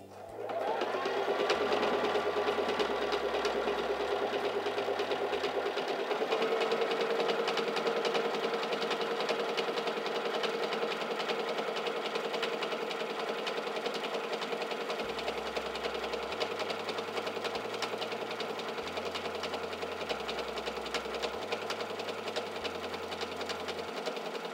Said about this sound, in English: And now we can stitch out a honeycomb stitch.